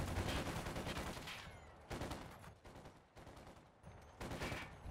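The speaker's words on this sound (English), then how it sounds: "Got the machine gun, MG42 there, forcing him away." An MG42 machine gun firing in the Company of Heroes 2 strategy game, with sustained rattling bursts and short gaps between them, mixed with other battlefield gunfire at moderate loudness.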